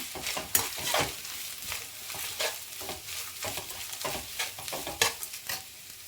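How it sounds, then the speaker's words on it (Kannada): Half a grated coconut fries and gets stirred in a pan for coconut rice, giving a steady crackling sizzle broken by repeated scraping strokes of a spatula, close and moderately loud with no voices. "ಸೊ ಇದನ್ನು ಕೂಡ ನೀಟಾಗಿ ಫ್ರೈ ಮಾಡ್ಕೊಳ್ಳೋಣ"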